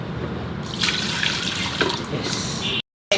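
Water pours and splashes over grains being washed for khichdi, a continuous close running-water sound with brief sloshing, ending in a short silence.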